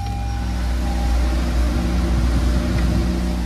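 A 2023 Toyota Camry TRD XSE V6 engine idles with a steady, smooth low hum and light whirring, heard from close by without any talk.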